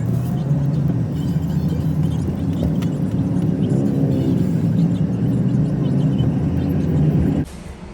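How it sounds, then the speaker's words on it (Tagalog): A car's engine hums steadily nearby with a low whirring drone and a slight rise in revs midway, then cuts off abruptly near the end as the vehicle stops. "Ayan na yung sasakyan yata."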